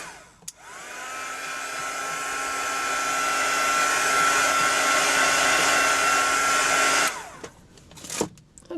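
A hair dryer blows steadily on a drawing for about seven seconds, a loud whooshing drone with a whining tone that switches on sharply and cuts off, followed by a few soft handling noises.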